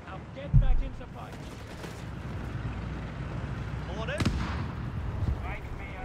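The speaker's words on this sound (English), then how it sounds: "Mines exploding." Mines detonating on a Company of Heroes 3 battlefield in a match between Wehrmacht and US Forces: a sharp thump early, then a louder blast near the middle amid ongoing combat rumble, with a commentator talking throughout.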